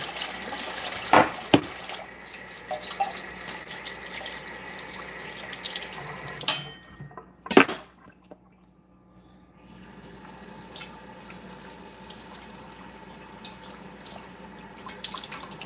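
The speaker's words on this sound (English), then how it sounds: "Rinse it off the vegetable as well." A waxed rutabaga rinsed under a running kitchen tap, with steady splashing water that stops briefly midway and then resumes, plus a few knocks against the sink.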